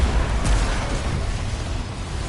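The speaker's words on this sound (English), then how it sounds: "That explosion hits for almost 50 meters." A heavy explosion in the Remnant video game booms with a loud low-end blast right at the start, then rumbles and decays steadily across the rest of the moment, with no talk over it.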